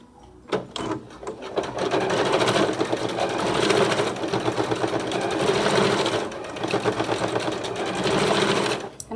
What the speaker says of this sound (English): make a nice secure seam so that will stay put